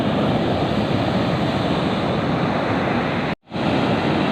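Large ocean waves around 3 metres high roll in with a steady, loud broadband roar of surf and wind, broken by a brief dropout near the end.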